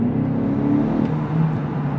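A VW Golf GTE 1.4 plug-in hybrid with 245 horsepower switches from electric to petrol power while driving, producing a steady, close engine hum and road whir with no talk.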